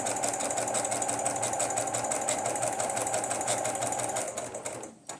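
A sewing machine runs a straight stitch through paper in a fast, even, rapid chatter close up that holds steady, then slows and stops near the end.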